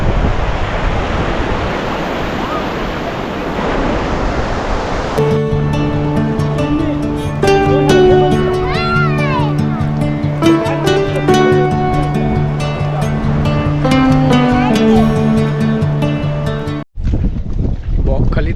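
Sea wind and surf roar steadily at Bakkhali beach at low tide for the first few seconds, before music takes over and covers them.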